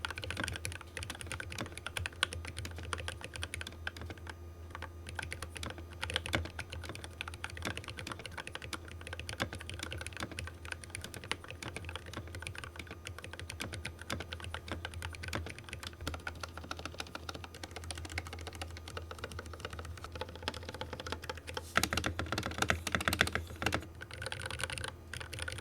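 Someone types continuously on an LTC Nimbleback LT681, a cheap Amazon mechanical keyboard fitted with new keycaps. The rapid, close clacks run with occasional heavier spacebar thocks and have a slightly hollow ring.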